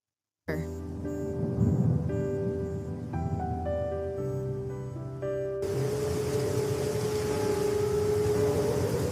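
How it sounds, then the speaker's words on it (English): Cartoon storm effect with steady rain and rumbling thunder, a dense roar filling the whole clip with tonal music layered over it and a shift in the mix near the end. "The storm is getting worse."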